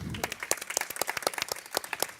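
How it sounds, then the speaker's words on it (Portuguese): Applause from the audience at a public hearing on Irlen syndrome: a brief burst of scattered, distinct hand claps, fairly close and uneven in rhythm, with no voices over it. "Parabéns, vamos aplaudir, gente."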